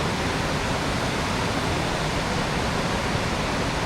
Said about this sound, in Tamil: ஸோ தண்ணி பாருங்கள் 24/7 இதே ஃபோர்ஸில் போய்கிட்டே இருக்குது.